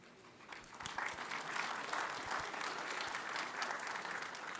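Audience at a petrochemical leadership panel applauds steadily, a dense even wash of many hands clapping at moderate loudness with no voices over it.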